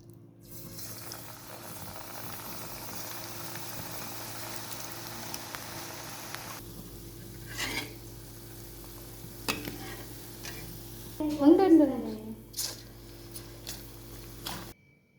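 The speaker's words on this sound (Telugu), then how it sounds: "మరుగుతుందండి. అందులోని పకోడీ వేసేద్దాం." Onion pakodi fritters fry in boiling oil on a stove, giving a steady, soft sizzling hiss throughout, with a brief louder bubbling clatter toward the end.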